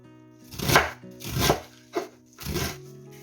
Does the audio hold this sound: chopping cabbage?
yes